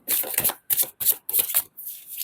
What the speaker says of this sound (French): J'ai envie de tirer une carte là-dessus.